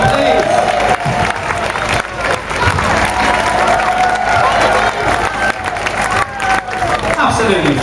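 A village festival audience in Blackrock applauds a band, with loud, dense clapping that holds steady for several seconds. Cheers and crowd chatter mix into the clapping.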